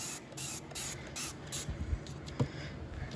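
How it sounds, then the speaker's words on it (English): Dawn Power Wash dish detergent spray hisses out in several short, quiet bursts close by, roughly evenly spaced, with a few faint knocks between them, used on car parts in a workshop. "It's just the Dawn Power Wash. It's a spray instead of mixing up water and"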